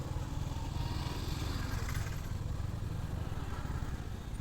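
Royal Enfield Hunter 350 motorcycle engine running steadily on a city ride, a continuous low rumble with dense clattering pulses and some wind, loud and close with no talk.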